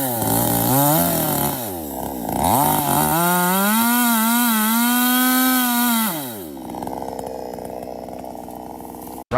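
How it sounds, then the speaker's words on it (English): A chainsaw roars close up while cutting a large tree, its engine pitch rising and falling steadily through the cut before dropping to a rough idle. "started the chainsaw. The sound of the machine echoed in the quiet space"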